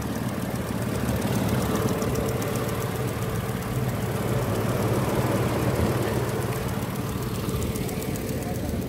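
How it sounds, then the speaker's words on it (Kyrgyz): A 1998 Mercedes with automatic gearbox and 2.4-litre engine idles with its hood open at an outdoor car market, a steady close low hum running throughout, with voices talking over it. "Уну азыркы тапта от алып турат тугандар"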